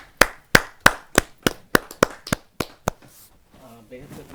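A small crowd at a Hindi poetry gathering claps to welcome a poet. About ten sharp, evenly spaced claps sound close and loud before fading into quiet room noise with a faint voice.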